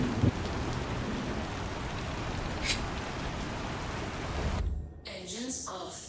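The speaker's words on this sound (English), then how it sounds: "The rain is nice though." Steady heavy rain in Star Citizen, a dense even hiss throughout that briefly dips near the end, with a voice talking at the close.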